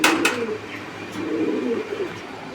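A pair of pigeons in a loft coos in a soft, low murmur that swells midway, with a few brief knocks at the start and no talk.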